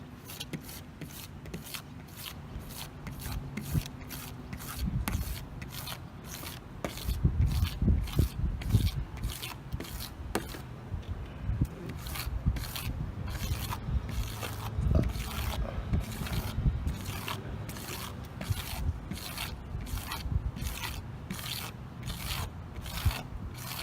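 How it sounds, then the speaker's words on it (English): A blade scrapes stubborn paint overspray residue off a surface in steady, rapid repeated strokes, close and fairly loud, with heavier rasping passes in the middle and no talking. "What I'm doing is cleaning off the residue that the blade didn't pick up."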